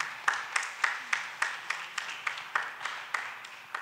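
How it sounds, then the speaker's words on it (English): A church congregation at a Sunday morning service claps in a moderate, fairly even rhythm, the applause sounding somewhat distant and soft with roughly regular beats. "give yourselves a round of applause"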